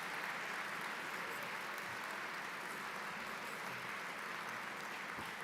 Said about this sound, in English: that's right, give them a big cheer